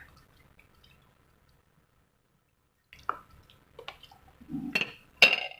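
Boiled cassia leaves go into a pot of Isan-style curry and are stirred in. Silence gives way to wet plops, squelches and a few light clinks against the pot, close by.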